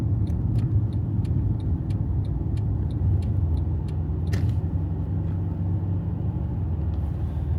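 A Porsche car approaching, heard from inside another moving car as a steady low engine and road rumble with a brief swell of passing noise midway; faint clicking ticks repeat through the first half, no talk.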